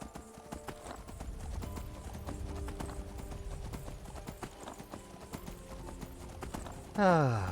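Rhythmic clip-clop of horse hooves at a steady trot in Skyrim, with game ambience underneath and a brief rising sweep near the end.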